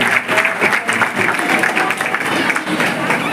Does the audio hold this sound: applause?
yes